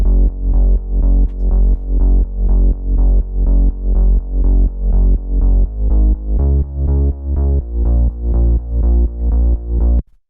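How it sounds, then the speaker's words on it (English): Bass synth from a progressive melodic house track, playing a steady pulsing line of repeated sustained notes that shifts pitch about two-thirds through as it follows the chord progression, loud and alone, then stops abruptly. "After that, we have the bass"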